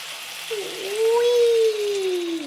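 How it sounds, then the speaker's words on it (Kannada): Water is poured from a glass into a pan of cooking spicy chicken, a brief close gurgling pour with a rising, bubbling tone over a faint background hiss. "ಇವಾಗ ನೀರು ಹಾಕ್ಕೊಬೇಕು, 1 ಗ್ಲಾಸ್ ಅಷ್ಟು."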